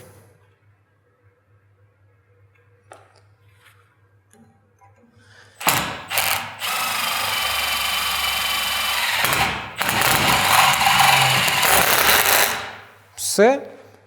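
Milwaukee M18 ONEID2 driving a drill bit through metal with cutting oil, a loud whirring grind starting midway in two bursts separated by a short pause, after a quiet stretch.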